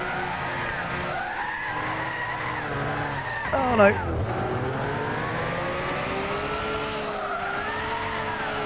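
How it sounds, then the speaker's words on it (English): A car in Gran Turismo 6 skids and spins out, its engine droning steadily under long wavering tire squeals, with a brief louder scrape midway and someone talking over the sound. "I don't know why it's spinning out so much as well."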